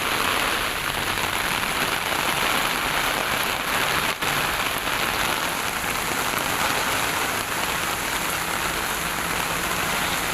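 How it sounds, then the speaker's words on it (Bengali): Steady, heavy rain falling and pattering on surfaces, a dense continuous hiss that holds evenly throughout without pause. "এই বৃষ্টিটা চাইছি এত করে"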